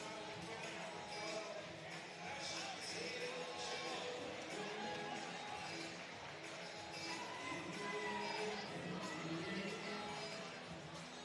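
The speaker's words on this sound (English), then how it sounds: "They got a huge crowd here tonight watching this one." Large crowd filling a high school basketball gym, a steady roar of chatter and cheering throughout, fairly distant and even with no single voice standing out.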